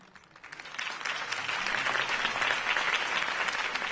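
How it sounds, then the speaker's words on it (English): Crowd applause in Batman: The Telltale Series swells up quickly and holds steady, dense clapping filling the space without any voices over it. "could have heard that applause"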